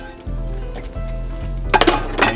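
Shrimp being stirred into a shrimp sauce with a roux in a pan, making a few close clinks and scrapes of a utensil against the pan over a low background hum.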